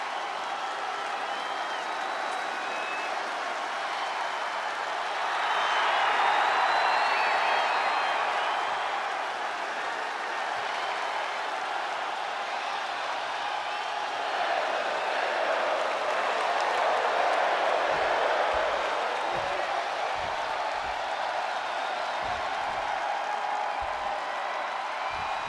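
Arena crowd in WWE 2K24 at a Rey Mysterio match, a constant roar of cheering and applause that swells twice, with faint thumps from the ring late on.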